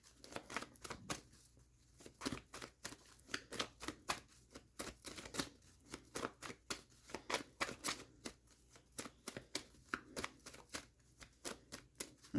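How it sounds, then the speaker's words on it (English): Tarot cards shuffled over and over, quick papery riffles and slaps coming in short bursts with brief pauses between them, close and fairly quiet with no one speaking. "I'm going to use these tarot cards here. These are some of my old tarot cards."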